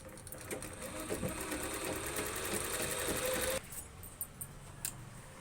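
A domestic sewing machine runs freely after tangled thread is cleared from its shuttle: a fast, rattling mechanical whir that runs steadily for about three and a half seconds, then stops abruptly, followed by a few light clicks.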